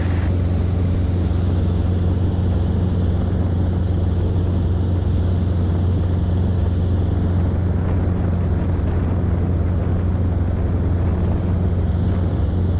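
Steady, droning engine and rotor hum of a Robinson R22 helicopter in flight in the traffic pattern, a continuous low-pitched rumble heard from inside the cabin with no break over the whole stretch.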